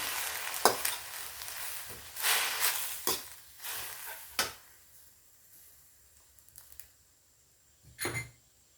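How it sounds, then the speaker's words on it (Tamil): Pulicha keerai (sorrel leaves) are sautéed in a pan: bursts of sizzling hiss come with separate sharp clacks of a spoon against the pan, loud near the start and thinning to quieter gaps toward the end. "நல்லா வதக்கிக்கணும்"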